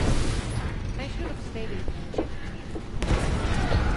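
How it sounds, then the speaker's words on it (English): Explosions in the video game Deus Ex: Mankind Divided, heard as a dense, continuous rumble of booms and crackling blasts with a sharper burst near the end, loud throughout. "explosion where?"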